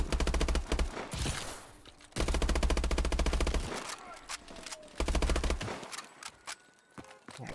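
Automatic gunfire in the Call of Duty Advanced Warfare video game, three long loud bursts of rapid shots separated by brief gaps, with lighter game sounds and effects between them.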